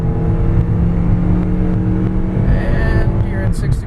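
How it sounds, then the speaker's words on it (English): A 2006 Scion xB climbing a hill under near-full throttle during a 0 to 60 run, with a loud, sustained engine drone and road roar from inside the cabin, with faint speech toward the end. "here we'll be doing a 0 to 60 acceleration run, seeing how fast we can get up this hill"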